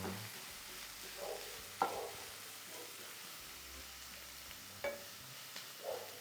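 Onions softening in a pan with a pinch of salt, a faint steady sizzle broken by a few sparse scrapes and taps of a spoon; quiet and unhurried, no talking.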